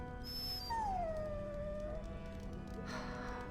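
A dog in the video game Dragon Age: Origins lets out a single drawn-out, falling whimper that slides into a soft howl over quiet background ambience.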